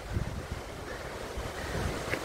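Wind gusts across a hillside trail leading to a waterfall near Gairi village, a steady, fairly loud rushing roar and microphone buffeting with no voices.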